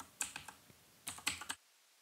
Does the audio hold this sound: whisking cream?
no